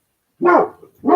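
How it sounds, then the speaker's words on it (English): A single loud, close dog bark rings out, followed by the start of a second bark; no talking. "I hope you're not all deaf from his loud bark"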